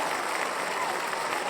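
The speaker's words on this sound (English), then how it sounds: "Had to hit him with some of the applause." Applause sound effect played on a podcast to welcome back a returning guest, a dense, steady burst of clapping and crowd cheer lasting about a second and a half, with no talk over it.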